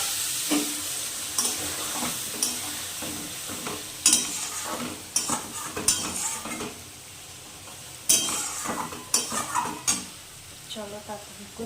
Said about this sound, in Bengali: জিরে শুকনো লঙ্কা ফোড়ন দিয়েছি, কারণ ইলিশ মাছটা বসাবো